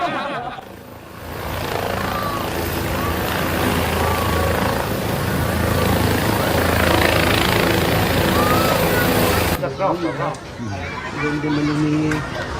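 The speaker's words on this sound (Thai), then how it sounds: "เอางี้ให้ดูภาพตั้งแต่ เฮลิคอปเตอร์มาลงก่อนนะคะท่านผู้ชม" A Thai agriculture helicopter comes in to land, its rotor and engine making a steady loud roar and rumble for several seconds, with crowd chatter and voices underneath before the scene cuts to a quieter moment with people talking.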